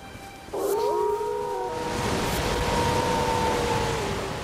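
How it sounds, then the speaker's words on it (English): A wolf in the video game Elden Ring howls in a long, sustained, wavering call over a steady background drone of game ambience. "Well, there's a wolf right there."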